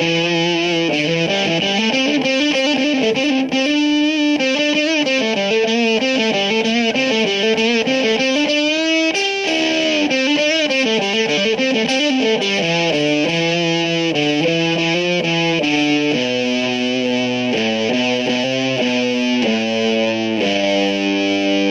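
Electric guitar run through a Reptile fuzz pedal, a smoother fuzz, playing sustained, thickly saturated notes and chord changes continuously and loudly for the whole stretch, with no voices.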